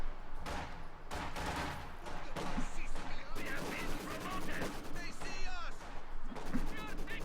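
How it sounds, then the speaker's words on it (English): Machine gun fire rattles through a Company of Heroes 2 battle, bursts of gunfire and explosions layered densely and continuously with in-game voices speaking over the din. "Here we have me setting up my MG, or my machine gun"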